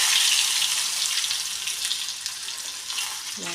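Chopped garlic, green chili and curry leaves sizzle steadily in a hot pan for tomato curry, a close, bright frying hiss that eases slightly as it settles.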